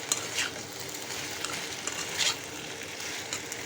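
Chalta (elephant apple) pickle frying in a pan, a continuous broad sizzle with light stirring scrapes and a few utensil taps, close and steady with no talking.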